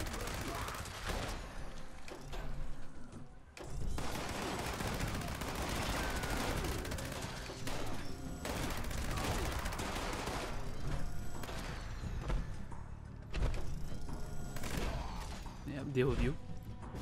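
Rapid bursts of Gauss minigun fire in Fallout 76, loud and dense, repeated across several long streams with short breaks between them, with game effects layered in.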